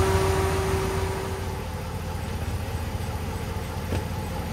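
A 2010 Ram 1500 pickup engine idles steadily and close by, a continuous low rumble with a hum that drops slightly early on and then holds even, with no voices.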